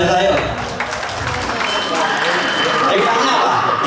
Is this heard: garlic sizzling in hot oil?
no